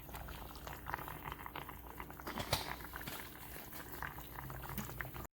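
Jamaican brown stew fish simmers in a pot, a steady close bubbling and soft patter of liquid running throughout with no voices.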